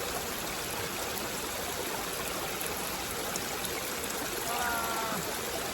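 A mountain water stream flows in a steady, close rushing wash with no breaks, running evenly the whole time, with a faint, brief voice-like tone near the end.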